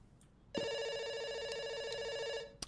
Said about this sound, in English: let's pick up the phone